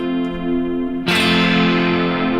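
Electric guitar plays through a Fractal modeler with an SDD preamp or tape distortion, a sustained chord ringing before a harder, brighter distorted strum comes in loud and holds.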